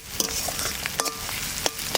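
Onion frying in mustard oil tempered with bay leaf, dried red chilli, cumin and coriander gives a steady close sizzle, broken by a few sharp spits and stirring scrapes.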